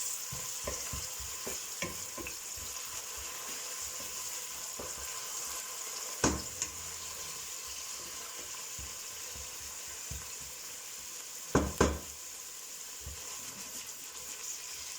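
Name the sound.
stirring frozen ingredients into frying stew with pork ribs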